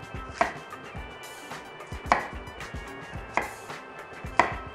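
Knife chopping cauliflower into small chunks on a board, four sharp, evenly spaced chops close up with quiet pauses between them.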